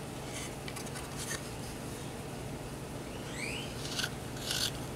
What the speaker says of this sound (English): here's a little piece of thin basswood. And we're gonna cut it.